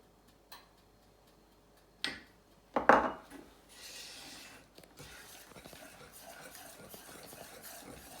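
A spoon stirs cheese soufflé batter with egg yolks in a bowl: a few sharp knocks against the bowl, then continuous soft scraping and sloshing, heard close with no talk.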